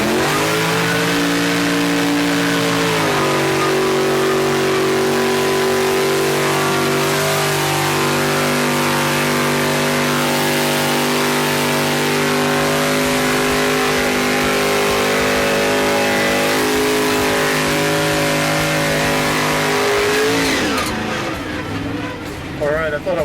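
A tricked-out truck at the Gumboro mud bog roars with its engine revving, a loud, close, sustained drone with a rising pitch that holds steady for long stretches and then falls away near the end.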